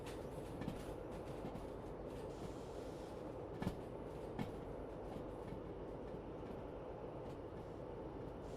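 Locomotives in a train simulation game hauling a heavy load out of a harbor make a steady, dense rumble with rolling wheel noise and a couple of sharp clanks, continuous and moderately loud.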